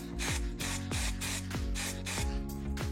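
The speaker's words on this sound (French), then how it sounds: "j'ai mis un petit coup de vernis acrylique en bombe" An acrylic varnish aerosol can sprays in about six rhythmic short bursts, a close, steady hiss with the can's rattling pulse between puffs, and no talking.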